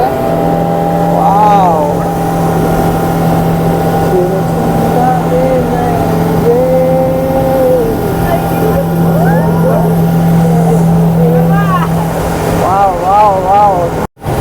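A speedboat engine drones steadily out on Patratu Lake in Jharkhand, holding one constant hum throughout while voices talk over it, with wind and water noise underneath.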